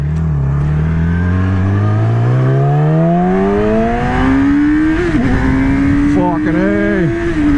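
Yamaha R6 sport motorcycle engine revving hard during a ride, pitch climbing steadily through the gears with quick rev-matched blips near the end, loud and close, with a brief exclamation from the rider.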